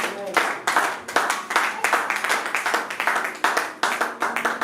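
A church congregation claps along in steady, rapid bursts, the applause fairly close and continuous, with voices speaking over it.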